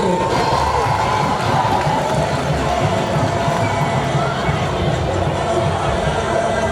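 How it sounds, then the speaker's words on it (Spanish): An audience at a school carnival celebration applauds and cheers for a second-year baccalaureate class, a dense, loud, continuous wall of clapping and crowd noise filling the whole stretch. "Aplauso para segundo de bachillerato A"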